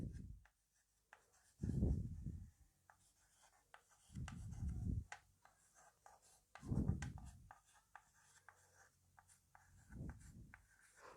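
A teacher writes out a phrase about the number of people watching a soccer game, quiet scratchy strokes in four or five bursts separated by pauses, faint and close.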